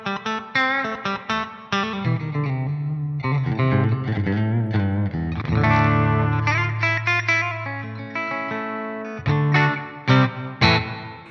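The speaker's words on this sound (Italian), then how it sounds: "Il riverbero che sentite deriva appunto dall'amplificatore." Electric guitar in the style of a Les Paul, with a memory pick, played through an amplifier whose reverb adds a gritty, slightly distorted shimmer; strummed chords and sustained notes ring out with decaying tails, no talking.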